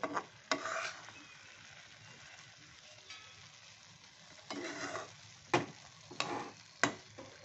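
Kanika, a sweet rice dish, being mixed in a hot pan: soft sizzling under a few scraping strokes and several sharp utensil knocks against the pan, fairly quiet and close.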